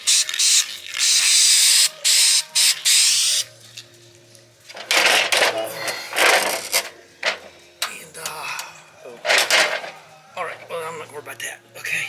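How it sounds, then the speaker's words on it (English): A can of spray paint hisses in several loud bursts, two long sprays at the start and shorter ones later, with someone talking between and over them. "Another thrilling YouTube extravaganza of using spray paint."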